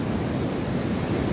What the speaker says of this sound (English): The waves look like they're pretty big right now.